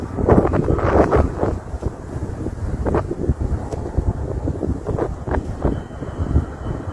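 Strong wind buffets the microphone in a steady, rough rumble with gusty surges and faint background noise, no voices.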